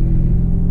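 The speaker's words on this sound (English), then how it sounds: "I don't know if you can hear the race cars going around right now" Race cars circling Sebring International Raceway make a steady, continuous low rumble of engines. It sounds like a distant, sustained drone with no voices over it.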